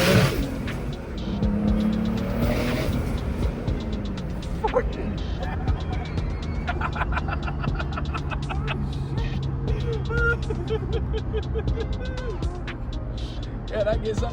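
A boosted BMW E36 pulls hard up a road, engine revving and climbing through gears from inside the car, with someone talking over the engine noise.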